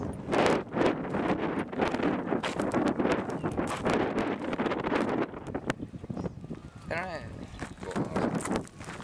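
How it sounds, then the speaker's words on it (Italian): Wind blowing across the microphone outdoors at Sipán, Peru, a steady broadband rush and buffeting that runs throughout under people talking. "C'è un po' di vento"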